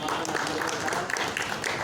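Crowd applause welcomes a speaker, a party vice-president, at a BJP workshop, a brisk, fairly loud wash of clapping with faint voices mixed underneath.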